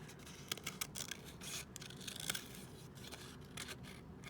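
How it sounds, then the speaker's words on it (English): Scissors cut paper shapes for a Matisse-style cutout project, making faint, repeated close snips and paper rustling in a quiet room. "So I'm gonna first cut out each shape, and I can have 3 or 4 of them."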